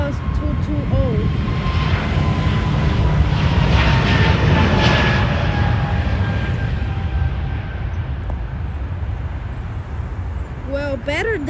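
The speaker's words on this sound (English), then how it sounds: "This is a Airbus 220." Airbus A220 airliner taking off at Miami, a loud steady jet engine roar that slowly fades as the plane climbs away, with people talking nearby and a voice speaking at the end.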